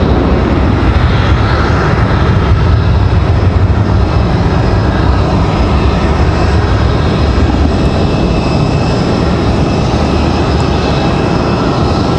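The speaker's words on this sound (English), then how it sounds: "Here we do have that next arrival. That A319." An Airbus A319 airliner arriving at Raleigh-Durham International Airport makes a loud, steady jet roar that fills the whole stretch without letting up, with no talking.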